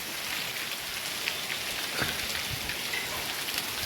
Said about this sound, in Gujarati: એટલો વરસાદ છે બગસરાની અંદર.